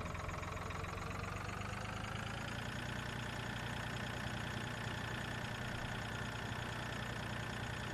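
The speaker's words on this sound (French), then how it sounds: "On va prendre ce tracteur là." Tractor engine in Farming Simulator 2013, a steady low rumbling idle with a mechanical knocking texture, continuous and fairly close, without speech.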